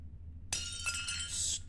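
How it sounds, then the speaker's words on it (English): Plates smashing in the Iron Lung game: a sudden bright crash of breaking crockery with shattering shards and clinks ringing for about a second over a low background hum. "Who's breaking plates? Who's smashing plates up in here?"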